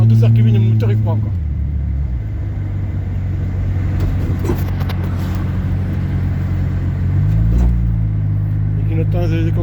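A Honda Prelude with an automatic gearbox pulling under gentle throttle while driving, a steady low engine drone close inside the cabin that shifts pitch briefly near the end.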